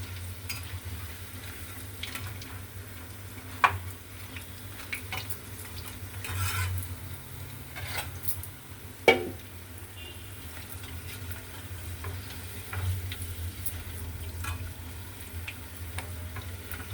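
Food fries gently in a pan over low heat with a soft, steady sizzle throughout, and a few sharp clinks and taps of a utensil stand out above the frying.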